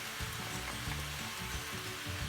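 Peppers and corn kernels stir-fried with tofu noodles, giving a steady close sizzle and frying hiss with soft scraping stirs throughout and no talking.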